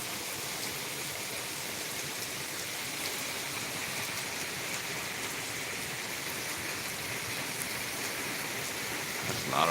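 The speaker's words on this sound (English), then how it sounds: "A lot of rain." Heavy rain pouring down in a continuous dense hiss, steady and fairly close, with no other sounds over it.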